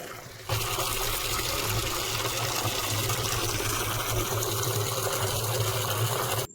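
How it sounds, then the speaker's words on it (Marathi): Water gushes steadily into a barrel while a drip fertilizer mix is prepared on a mulberry farm. After a brief quiet start, the loud, continuous rush of filling liquid holds without a break. "एकशे तीस ते एकशे चाळीस लिटर पाणी बॅरलमध्ये आपण भरून घ्यायचं आहे"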